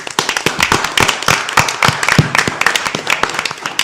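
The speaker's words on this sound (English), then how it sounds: "Let's give him a round of applause." Audience applause for a panelist at a 2012 political election debate panel, a dense burst of many hands clapping rapidly and loudly, sustained throughout.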